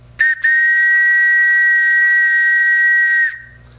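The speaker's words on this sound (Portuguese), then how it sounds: "Esse é um apito da saudosa maquininha, né, dos passageiros. Era para alertar os passageiros para entrar ou sair do trem." An old passenger train whistle, hand-held and blown close by, gives a brief toot and then one long, loud, steady shrill blast lasting about three seconds before cutting off.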